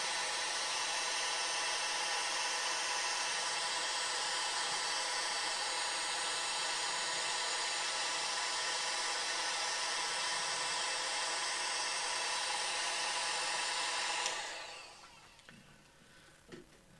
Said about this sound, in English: It is taking the hairdryer okay, because there are some paints that don't like to be hit by a lot of hot air.